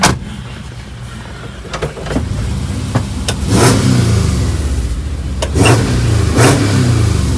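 A Volkswagen bus converted to a non-turbo Subaru 2.5 litre EJ251 engine with a custom exhaust revs loudly and close by, its engine surging in waves with sharp pops and cracks from the exhaust.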